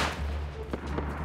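Gunfire in the video game Rust: a few sharp, distant-sounding shots over a low, steady background hum, moderately faint with no speech.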